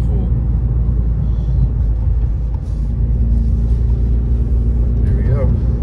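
A car drives into a snowstorm near Big Bear, its engine and tire noise forming a loud, steady low rumble from inside the cabin, with no clear break or change.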